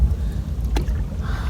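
Water burbling at the bow of a rowed boat on a village river in Bengal, a brief steady low wash close by with one small splash partway through.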